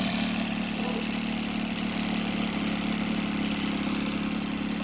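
An outboard boat motor idles steadily on its own, a constant mid-pitched running hum with no revving, heard close and fairly quiet.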